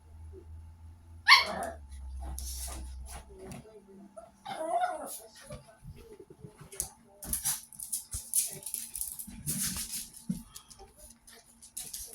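A dog gives a sharp bark and a few yips, with scattered shuffling and movement sounds; a person speaks briefly in between.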